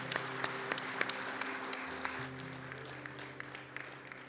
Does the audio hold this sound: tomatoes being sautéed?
no